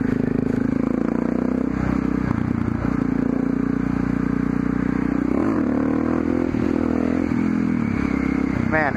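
A motorcycle accelerating in third gear, its engine droning loud and close with a rising, wavering pitch, plus some clatter and wind buffeting.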